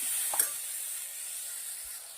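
Steady frying sizzle with a brief clatter as moong dal is tipped into hot spiced oil, then a continuous hiss with no talking.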